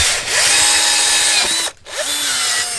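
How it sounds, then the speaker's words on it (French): A power drill with a hole saw whines loudly as it bites into material while drilling a hole to route cables, stops briefly, then spins up and keeps cutting. "Là on va percer dans ça avec la scie cloche"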